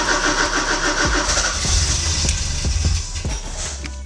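A Porsche 944 engine cranks under its starter with no starter fluid, a steady loud rhythmic churn of compression pulses that sputters and nearly catches without settling into a run.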